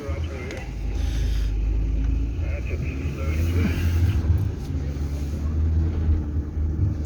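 A Jeep Gladiator crawls over rough off-road terrain with a low engine rumble and mechanical jostling, while people talk over it throughout.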